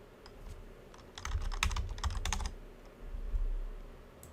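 Fingers type on a computer keyboard in quick, close bursts of keystrokes, with a short pause between two clusters of clicking and a low background hum.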